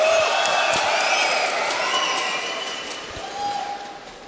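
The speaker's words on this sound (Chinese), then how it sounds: "再次掌声好吗？" A boxing event crowd cheers and whoops loudly with a broad roar that slowly eases off, and a few shrill whistles and shouts rise above it.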